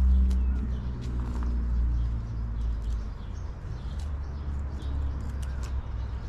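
Birds gather in a cherry tree heavy with fruit, giving scattered faint chirps and soft coo-like calls over a steady low outdoor rumble.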